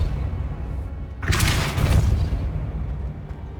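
A Repulso spell cast in Hogwarts Legacy bursts out as a single loud, booming blast after a quiet moment, with a broad rushing whoosh that lingers for about a second before settling back to low game ambience.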